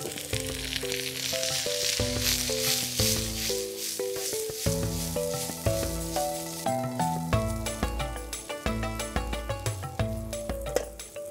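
Papaya sizzles steadily in hot oil in a pan as a shrimp and papaya stir fry cooks, a soft hiss running under louder rhythmic background music.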